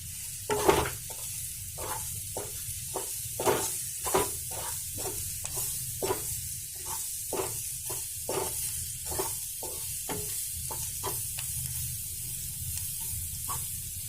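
Whole spices, meat masala, cumin and turmeric with green chillies sizzle and fry in a pan for an egg-potato chop, with a steady hiss and repeated sharp stirring scrapes throughout, close and moderately loud.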